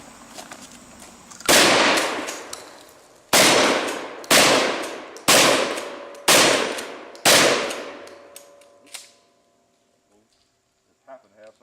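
A Mossberg 500 shotgun fires five loud, sharp blasts spaced about a second apart, each ringing off before the next. A softer knock follows near the end, and voices are faint in the background.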